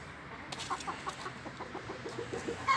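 Hens and a one-year-old rooster cluck in short, repeated bursts, several soft calls in a rough rhythm, fairly close over a quiet farmyard background.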